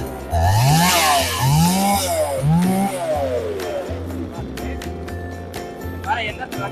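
A JAWAN chainsaw engine fires and revs in several rising bursts, then settles into a steady idle with clicks and handling noise. The sound is loud and close, with someone speaking over it.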